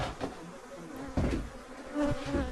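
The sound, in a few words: killer bees buzzing around a shed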